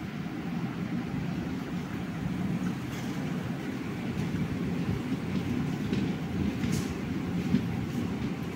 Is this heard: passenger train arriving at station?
yes